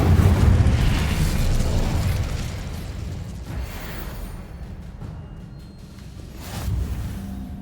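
In the Hogwarts Legacy video game, an Incendio fire spell goes off with a loud opening burst of whooshing flame that rumbles on, fades slowly, and then swells again briefly near the end.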